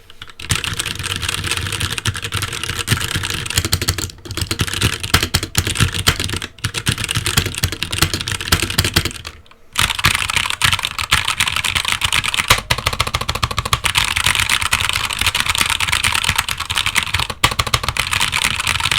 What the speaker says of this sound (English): a comparison between linear and tactile switches and how the sound between the two sound overall